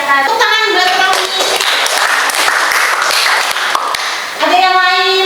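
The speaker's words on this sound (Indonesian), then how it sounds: "Tepuk tangan buat Romi." Students clap together in a classroom during a teacher-training lesson, a loud burst of hands with brief talk at the start and again as the clapping stops.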